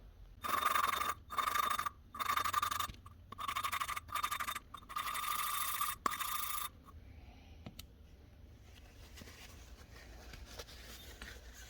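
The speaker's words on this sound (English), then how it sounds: "we can go ahead and start cutting our seats for our valves" Valve seats being cut by hand in a Honda XR100 cylinder head during a BBR 120 big bore rebuild, a close rasping scrape in several rhythmic bursts of about a second each, then quiet with faint handling noises.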